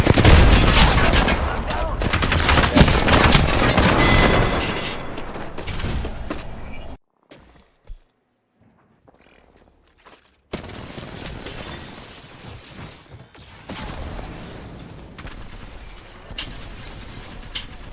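Heavy gunfire during an Apex Legends match, dense rapid bursts and fusillades up close, then a sudden near-silent gap before shooting and clatter resume more sparsely.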